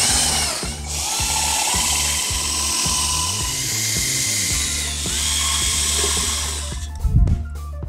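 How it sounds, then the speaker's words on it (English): A power drill drives 3/4 inch tech screws into clips holding an aluminum stair rail section to a post, giving a series of close, loud whirring bursts with short pauses between them and a sharper clatter near the end. "we want to secure the rail section to the clips with our 3/4 inch tech screws, top and bottom, both sides"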